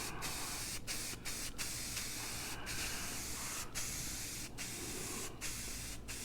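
Spray paint hisses from an aerosol can as a coat goes onto a metal military logo cut on a CNC plasma table; a close, steady spray broken by several brief stops between passes, with no talking.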